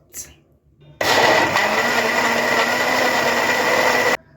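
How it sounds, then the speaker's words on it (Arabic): A kitchen blender whirs loudly for about three seconds, mixing banana, orange, beetroot, milk and sugar into a smoothie. It kicks in abruptly after a brief quiet and then stops sharply. "نضربه في الخلاط"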